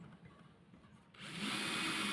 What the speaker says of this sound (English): We drill a hole